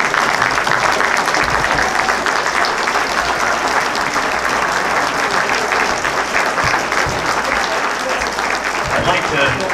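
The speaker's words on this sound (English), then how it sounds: "thank you for your kind applause" Audience applause fills a theatre after a stage play, a dense, steady clapping from a full house that stays loud and even for about ten seconds.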